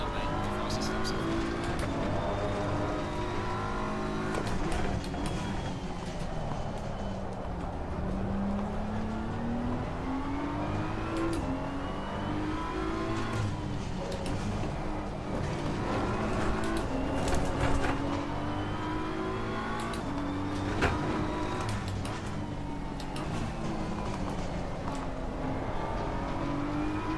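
Race car engines in Assetto Corsa Competizione: a loud, sustained engine note rising and falling through gear changes and revs, with occasional tyre noise and a voice talking over it.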